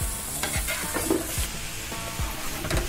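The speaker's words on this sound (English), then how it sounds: "Next, we let our pan get nice and hot and add a couple glugs of olive oil. And then swirl the olive oil around the pan. Add in our vegetables." Vegetables sizzle and fry in hot olive oil in a pan, a steady crackling hiss with repeated stirring and scraping strokes throughout, close and fairly loud, with no talking.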